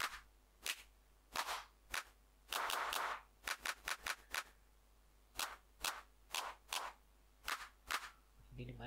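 Clap samples auditioned one after another in FL Studio, sharp dry claps in irregular bursts and quick runs, close and crisp with short silences between them.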